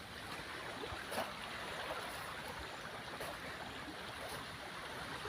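Floodwater after a night of heavy rain flows in a constant, even rush, a steady broadband wash with no breaks and only faint knocks.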